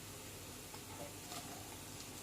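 Sausage sizzling in a pan with white and red onions for nasi goreng fried rice, a steady, faint hiss of frying with soft crackle throughout.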